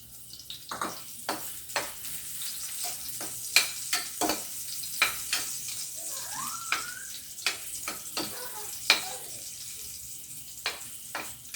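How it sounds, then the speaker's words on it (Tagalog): Garlic sizzles in a pan until golden brown as the base for squid with white squash, giving a quiet steady fry broken by frequent sharp pops and crackles at irregular intervals, close up, with no voices. "So guys, bumabango na ang bawang guys. Ibig sabihin, malapit na tong mag golden brown."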